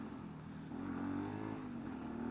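Benelli TNT 135 motorcycle with a horizontal single-cylinder engine running steadily, a close, even drone that swells slightly partway through, no voices.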